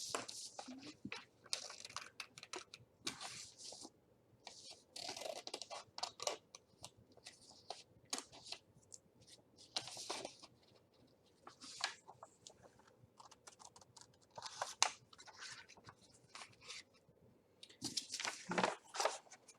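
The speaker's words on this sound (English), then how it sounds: "now what I'm going to do is I'm going to cut my mandala out so that it's just the circle" Scissors snip around a paper mandala circle, cutting it out as crafting art: a steady run of close, crisp snipping and rustling, with short pauses between bursts.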